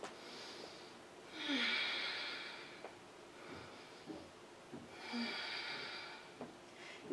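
Slow breathing during a yoga exercise, two long airy inhale-exhale swells with soft nasal snorts between them, close and quiet, with no speech.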